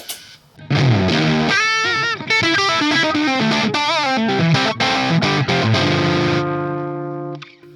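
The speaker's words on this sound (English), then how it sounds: "Let's turn the fuzz up." Loud, heavily distorted electric guitar through a 2N5088 transistor fuzz pedal turned up, thick noisy fuzz, chords and bends played continuously, then a sustained chord fading into a short quiet tail.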